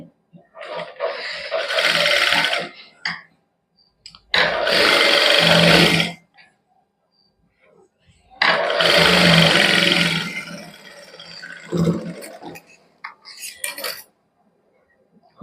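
A sewing machine stitches white lace onto a palazzo in bursts, whirring loudly for about two seconds at a time with quiet pauses between runs, close up and without talk.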